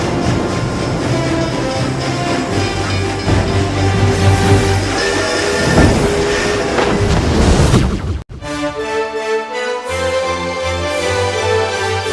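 Passenger train running on rails, a loud continuous rumble with rhythmic clatter close by, broken by a brief sharp drop before the rolling noise resumes.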